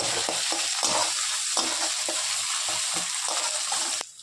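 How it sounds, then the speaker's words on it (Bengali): Green chilli and ginger paste fry in hot oil in a pan, a continuous bright sizzle broken by repeated scraping stir strokes, close and loud, cutting off abruptly at the end. "ভাজা করে নেব।"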